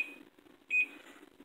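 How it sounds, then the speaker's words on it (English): Microwave oven keypad beeps, two short high electronic tones separated by a brief pause, clear and close in a quiet kitchen. "Cooking this in the microwave for"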